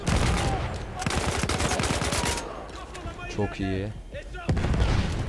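Bombs and gunfire roar through a Battlefield 1 battle at Gallipoli: dense, loud blasts and rapid shots rumble continuously, briefly dipping while someone speaks a few words, then surging again.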